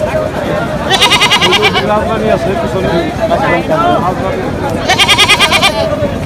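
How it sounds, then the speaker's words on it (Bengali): Totapuri goats bleat at a busy goat market at Hazratpur haat, with two loud, close, wavering bleats about four seconds apart over crowd chatter and people talking nearby. "তোতাপুরি ছাগল।"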